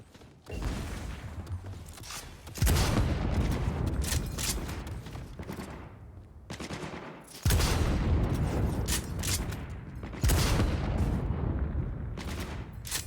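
Turret gunfire in the video game Cyberpunk 2077: dense, sustained bursts of automatic fire with heavy booming impacts, loud and continuous, swelling in several sharp surges over a thick layer of explosions and mechanical clatter.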